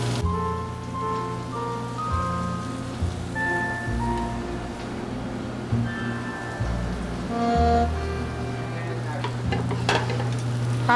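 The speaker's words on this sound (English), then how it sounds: "our onions have been sauteing for 2 or 3 minutes" Onions sautéing in a pan for shrimp scampi, giving off a steady, close sizzle and crackle like light rain, with occasional soft clinks from the pan. No one speaks.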